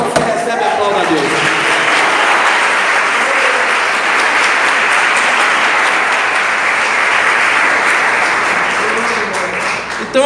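A church congregation applauds God during a sermon, loud sustained clapping from many people filling the space, with a few voices and shouts audible at the start and end.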